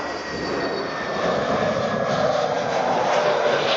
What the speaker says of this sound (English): Egypt airplane just landing.